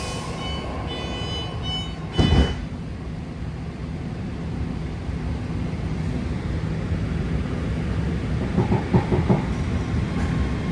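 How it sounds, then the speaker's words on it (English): A 9-car yellow line Antioch-bound BART train pulls into Balboa Park station, a steady rumbling roar of wheels and motors filling the platform, with a sharp clatter early on and rhythmic wheel clicks as it slows. "Here comes a 9-car yellow line, Antioch bound BART train pulling in to make its scheduled stop here at Balboa Park"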